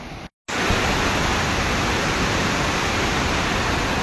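Overflowing water from the Itiadoh dam in Gondia, Maharashtra pours down like a waterfall, a loud, steady broadband roar that continues without pause after a brief silent gap at the start.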